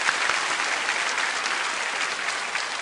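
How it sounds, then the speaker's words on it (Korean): A church congregation at a dawn prayer service at Bundang Woori Church applauds steadily, a dense, even wash of clapping from many hands that holds at a fairly loud level throughout. "우리 박수로 한번 이분들 격려해 주시기를 바랍니다."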